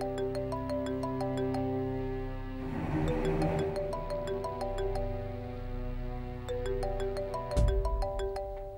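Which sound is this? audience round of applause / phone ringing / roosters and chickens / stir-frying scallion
phone ringing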